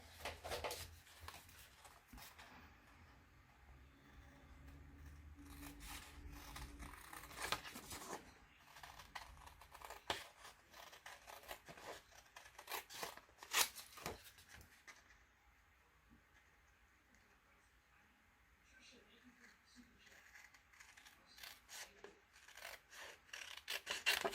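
Repeated snipping and rasping of scissors cutting through paper, close by, in uneven bursts with quiet gaps between cuts.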